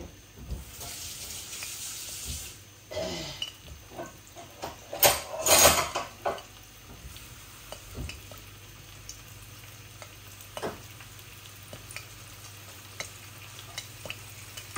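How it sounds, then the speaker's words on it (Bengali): Tilapia fish frying in a pan, a soft steady sizzle running throughout, broken by a few louder scrapes and clatters of turning or stirring, including a sharp burst in the middle. "মাছগুলো এইভাবে ভাজা ভাজা হয়ে যাক, আমি এপিট ওপিট করে নামিয়ে নিব।"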